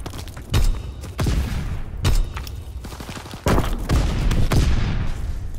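Artillery fires in a combat video game on a Gibraltar map, with several heavy booming shots landing in irregular bursts amid rumbling, each strong thump standing out loud and close.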